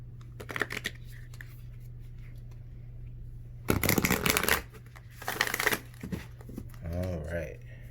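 Tarot cards being shuffled in several crisp, riffling bursts, close and fairly loud, over a steady low hum with a few soft voice sounds.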